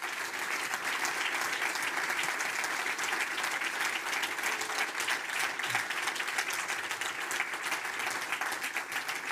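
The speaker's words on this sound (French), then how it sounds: "Privel, Dorian et le Guépard, qu'on peut les applaudir tous les trois." A conference audience applauds three speakers at the close of their talks, a steady, dense wash of clapping that holds at an even level throughout, somewhat distant, with no voices on top.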